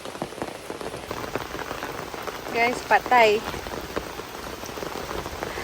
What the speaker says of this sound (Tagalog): Struggle kasi bumuhos talaga yung ulan.